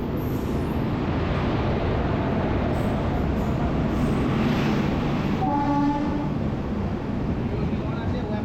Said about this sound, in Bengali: এই হচ্ছে আমাদের ট্রেন ঢুকছে 12666 কন্যাকুমারী হাওড়া সুপারফাস্ট